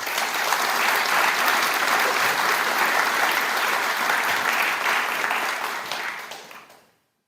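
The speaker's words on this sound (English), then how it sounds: "Fred Carter a round of applause." Audience applause for Dr. Fred Carter at an honors ceremony, a dense, steady wash of many hands clapping at full strength for about six seconds before fading out to silence.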